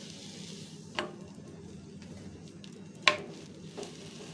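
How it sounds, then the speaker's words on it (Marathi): Sandwich bread fries gently in butter in a pan, a faint steady sizzle running throughout, broken by a few soft taps and one sharper clink of a utensil. "बटर ॲड करूया. आधी थोडंसं फ्राय करून घेऊया आपण."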